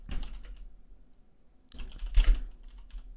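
Two quick bursts of typing on a computer keyboard, a flurry of close clicks and taps with a quiet pause between them.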